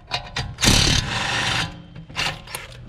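Wrench or ratchet loosening the 21 mm front brake caliper bolts on an Audi Q7, close mechanical whirring and clicking bursts with short pauses between them.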